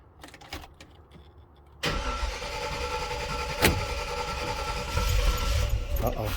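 A 1995 dually truck's diesel engine with 200,000 miles cranks and catches at about two seconds, then runs roughly with a low rumble and a brief bang partway through.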